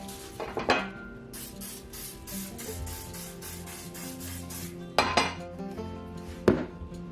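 A steady hiss of cooking spray coating a loaf pan runs for several seconds, bracketed by sharp clanks of metal pans being handled nearby.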